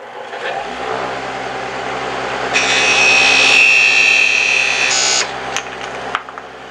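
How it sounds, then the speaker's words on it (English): A wood lathe spins a candlestick ornament while a thin blade parting tool cuts it off, a steady motor hum with a loud high scraping whine through the middle that ends abruptly as the piece parts. "for the final parting here, I'm going to use my thin blade parting tool"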